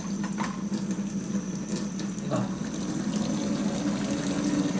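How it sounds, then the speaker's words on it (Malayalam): Steady rush of hot rice water pouring and splashing continuously as it is drained from a pot through a drainer lid, close and fairly loud, with a brief clatter partway through. "ഇത്ര എളുപ്പത്തിൽ നമുക്ക് ചോറിൻ്റെ വെള്ളത്തെ വാർത്തെടുക്കാൻ പറ്റും"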